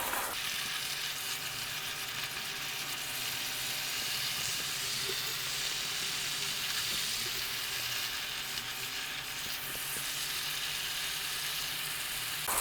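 Pork with holy basil stir-frying in a pan with fish sauce and oyster sauce, a steady loud sizzle and hiss of hot oil running unbroken throughout, with faint scraping of stirring.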